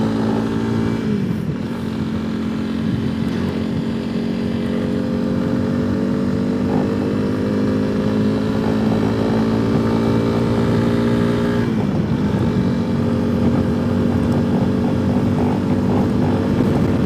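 A motorcycle engine pulls steadily uphill along a narrow B road in the Berwyn hills of Wales, a loud, continuous close drone whose pitch dips and climbs again at a gear change partway through.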